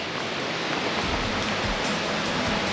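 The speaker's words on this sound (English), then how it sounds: "I think we have made it to Fossil Creek." Fossil Creek flows steadily near Mount St. Helens, a continuous broadband rush of water like a small waterfall or stream, fairly loud and unbroken with no voices.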